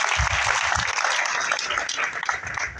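An audience applauds for several seconds, a dense patter of many hands clapping at once, fairly close and continuous.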